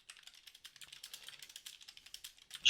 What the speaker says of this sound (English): Sorry, I was just typing to someone.